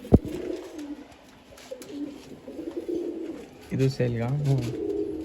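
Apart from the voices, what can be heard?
tournament pigeons cooing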